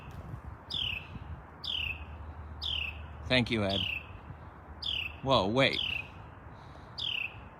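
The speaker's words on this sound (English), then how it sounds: "Listen to the bird welcoming me." Outdoors, a bird gives short, high chirping calls that repeat at a steady pace, close and clear, while a person speaks briefly over them.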